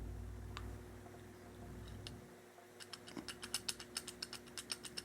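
Faint, quick mechanical clicks come from the worn throttle linkage on a Kohler K341 carburetor as it is worked back and forth, starting as sparse ticks and then running in a rapid, even series.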